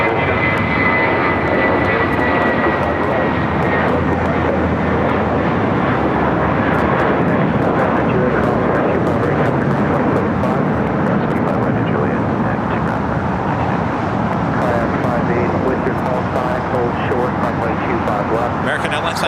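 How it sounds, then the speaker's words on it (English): An American Airlines Airbus A321 jet at LAX airport roars loudly and continuously, a broad engine rumble with a whining tone that slowly shifts as the aircraft passes, with no talking over it. "This flight coming up from Dallas, Fort Worth, Texas, an A321."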